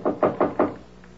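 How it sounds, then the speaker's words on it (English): A fist pounds an apartment door four times in quick succession, each blow a dull, close wooden thud, followed by a brief quiet pause, in a radio drama setting. "some guy was hammering on the door to the apartment next door"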